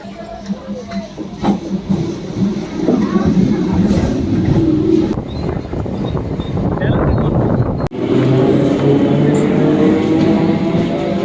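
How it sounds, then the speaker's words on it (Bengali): A local passenger train pulls into a station on the Bangaon–Habra line near Kuma, a loud rumbling roar of wheels and engine with gusty wind buffeting the microphone, continuing with a brief dip partway through. "এই যে ট্রেন আসছে এই ট্রেনে যাচ্ছি আমরা"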